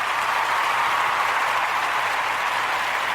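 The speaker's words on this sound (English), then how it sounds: "Let's give him a round of applause for being dumb." Steady, dense audience applause with the broad wash of many hands clapping at once, sustained and even in level throughout, with no talk over it.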